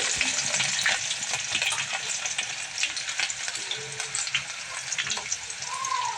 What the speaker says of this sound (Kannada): ಎಣ್ಣೆ ಎಲ್ಲ ಬಿಸಿಯಾಗಿದೆ. ಇವಾಗ ಬೆಳ್ಳುಳ್ಳಿನ ಹಾಕ್ಕೊತಾ ಇದ್ದಾರೆ